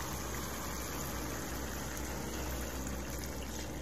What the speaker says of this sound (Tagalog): kumukulo na yung ating isda